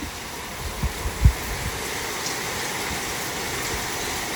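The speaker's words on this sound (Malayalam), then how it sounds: "അയ്യോ നല്ല മഴ പറഞ്ഞാൽ നല്ല മഴ, ഒടുക്കത്തെ കാറ്റും." Heavy rain lashes down with strong wind around a new house, a steady broadband hiss of falling water with a few dull low thumps early on and no voices.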